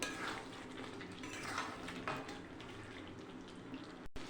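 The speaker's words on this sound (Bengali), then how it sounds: "আর 2 মিনিট আমি নাড়াচাড়া দেব" Meat being stirred in a cooking pot on a home stove, a steady soft scraping and clatter of a utensil against the pot with faint sizzling, ending in a few brief knocks.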